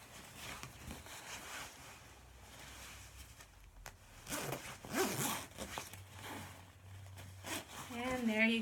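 The zipper of a babywearing coat is pulled in a few short, scratchy runs, close by and interleaved with someone speaking and some fabric rustle.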